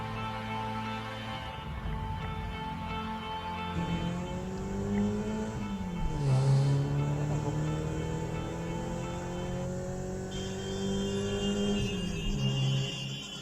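A car moves through traffic, with a steady engine hum rising and falling in pitch as it accelerates and shifts gears, the whole passage continuous and moderately close.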